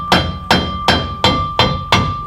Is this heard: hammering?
yes